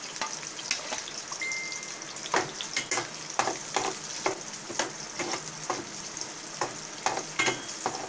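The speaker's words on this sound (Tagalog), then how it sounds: "Tapos lagay na natin yung sibuyas." Onions frying in a pan for laing, a steady close sizzle broken by frequent scraping stirs and crackling pops, with no talking.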